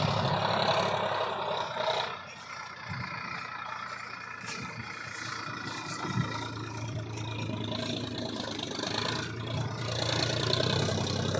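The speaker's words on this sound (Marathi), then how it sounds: "इकडे ट्रॅक्टर चालू आहे." A farm tractor engine runs nearby in a steady low, throbbing drone with slight rises and dips, continuing throughout at moderate loudness.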